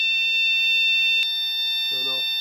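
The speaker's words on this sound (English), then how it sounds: "the smoke alarm went off" A smoke detector in a basement, set off by a smoke machine, sounds a loud continuous high-pitched electronic tone throughout, with a brief click and a voice speaking near the end.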